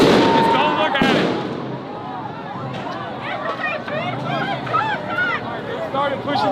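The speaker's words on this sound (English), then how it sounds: "they're deploying tear gas and flashbang grenades above our heads" Flashbang grenades burst overhead at a street protest where tear gas is being fired, a sharp loud bang followed by a crowd's shouting and chatter and piercing whistles carrying on underneath.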